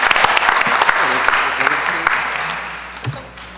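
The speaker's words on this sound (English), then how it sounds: "Let's please again give all of our recipients a big round of applause." A Hoboken school board meeting audience gives a burst of applause that starts loud and gradually fades. Quiet voices can be heard beneath the clapping.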